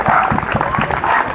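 An audience claps for Benjamin, the leader of a Breton bagad pipe band, in a short, close burst of uneven hand claps with some crowd noise behind it.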